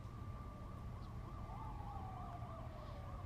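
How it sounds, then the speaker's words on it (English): Faint police sirens in the horror film Late Night With the Devil, a distant wailing tone rising and falling repeatedly over a low rumbling background with no talking. "we heard the police sirens a little bit earlier"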